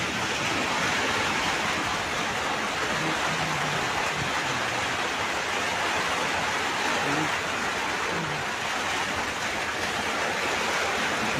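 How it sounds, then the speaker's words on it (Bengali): A sudden heavy downpour of continuous rain makes a dense, even hiss that stays steady and fairly loud for the whole stretch, with no clear voices over it. "প্রচুর বৃষ্টি হয় এখন।"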